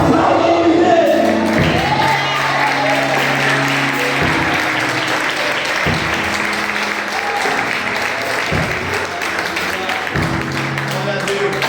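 A church congregation bursts into loud, sustained applause during an evangelistic service, with dense clapping and crowd noise over a steady musical backing throughout.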